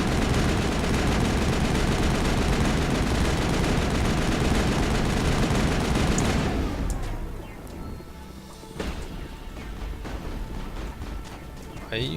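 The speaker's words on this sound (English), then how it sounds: "Are you guys still shooting?" In the Mass Effect video game's Krogan standoff, sustained, dense gunfire roars for several seconds, then drops away, leaving quieter scattered shots and movement.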